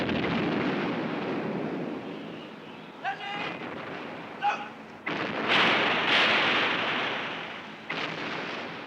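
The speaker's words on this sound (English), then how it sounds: "Hundreds of cannons opened a barrage of hellfire on Turkish positions." Artillery barrage from hundreds of cannons firing on Turkish positions in Palestine, 1918: a dense, continuous rumbling roar with sharper bursts and booms rising out of it, loud and sustained.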